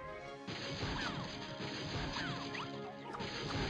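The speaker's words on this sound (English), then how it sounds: "Just replay the cage shattering with the familiar spirits coming out." A cage shatters in the Rayman Revolution video game, a loud crash followed by a dense burst of clattering, whooshing debris and magical sweeps lasting several seconds.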